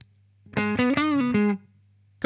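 A few electric guitar notes through a budget hard-clipping distortion pedal ring out, gritty and sustained, in a short phrase before cutting to quiet hum.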